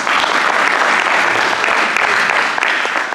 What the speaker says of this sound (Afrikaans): Dis 'n goeie plek vir hande klap.